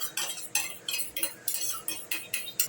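A spoon or whisk clinks rhythmically against a bowl while sour yogurt is beaten into poppy seed paste, with about eight sharp, bright strokes in a steady, close-up pattern and no talking.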